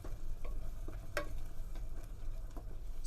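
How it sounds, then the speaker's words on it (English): Masala spices sautéing in a pan for a bottle gourd and coconut milk curry, giving a faint, steady sizzle broken by light scraping stir strokes and a few soft clicks, with no voices. "So you just saute the masala really well"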